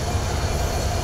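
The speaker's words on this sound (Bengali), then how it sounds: "765 আপ নীলসাগর এক্সপ্রেস ট্রেনটি ঢাকা কমলাপুর রেলওয়ে স্টেশন থেকে চিলাহাটির উদ্দেশ্যে ছেড়ে যাচ্ছে" The 765 Up Nilshagor Express pulls out of Dhaka Kamalapur railway station bound for Chilahati, a steady, close, low rumble of rolling rail cars with no voices.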